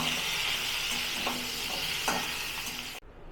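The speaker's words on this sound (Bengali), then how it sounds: "এবারে আলুগুলোও একটু দিয়ে দেবো, আলুগুলোও একটু ভেজে তুলে নেবো" Chandramukhi potatoes sizzle steadily in hot oil, a dense close hiss with occasional stirring clinks, cutting off abruptly near the end.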